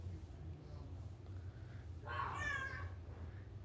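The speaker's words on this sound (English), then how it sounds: "Cat." A single cat meows once, a clear drawn-out cry heard faintly in a room over a low steady hum, with no voices during the call.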